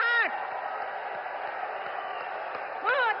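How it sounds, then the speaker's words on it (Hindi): Thunderous applause from a large crowd at a Modi political rally, a steady dense roar of clapping and cheering sustained throughout, with voices rising over it at the start and end. "तालियों की गड़गड़ाहट"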